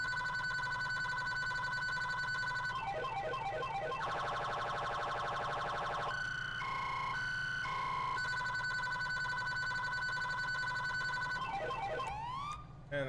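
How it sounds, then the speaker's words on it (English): A sweep-style police siren from the FiveM video game cycles through changing patterns, rapid warbling stretches, steady tones, and a brief rising wail near the end, loud and continuous over low engine rumble. "And then my favorite sweep siren."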